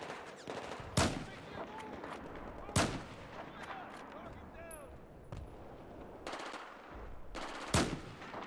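Gunfire in Battlefield 4 combat: several sharp, loud bursts and single shots spaced a few seconds apart over a steady background din of battle, with faint chirping tones in between.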